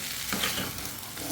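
Cooked rice being stirred into hot, sizzling tempering in a pan while making hot pongal, a steady crackling fry with a scraping stir, close and alone.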